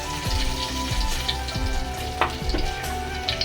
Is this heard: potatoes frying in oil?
yes